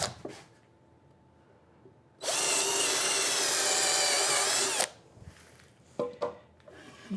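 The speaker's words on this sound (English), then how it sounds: "I countersink these well down just in case I do catch anything with the saw." A power drill with a countersink bit bores screw holes into wooden trestle parts, making one loud, steady whirring burst of a few seconds up close, with softer handling noises before and after.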